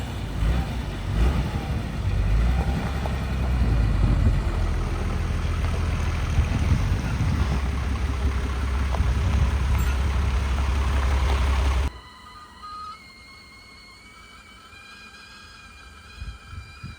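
A DAF T244 truck's engine runs at a steady loud idle with a deep continuous rumble for about twelve seconds, then cuts off abruptly, leaving quiet background hum.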